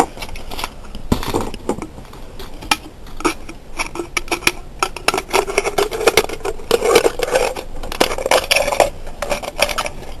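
Scissors snip through a thin aluminum beer can in a run of sharp metallic crunches and clicks, some close and loud, with brief pauses between cuts.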